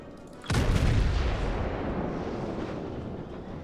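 Heavy naval gun salvo in the warship battle game World of Warships: one sudden loud boom with a long rumbling tail that fades slowly, no talk.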